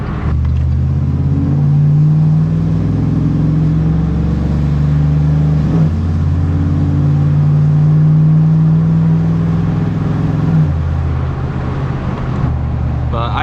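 A Chevrolet Silverado with a 6.0L engine swap and Magnaflow exhaust idles loud and close with a deep, choppy rumble, rising in two brief revs before settling back.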